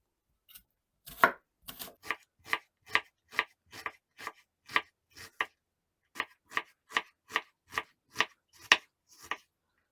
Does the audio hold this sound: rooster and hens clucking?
no